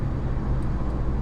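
A 2003 Audi S8 swapped to a six-speed manual cruises in sixth gear, giving a steady, low engine drone with road rumble heard from inside the quiet cabin, no voices.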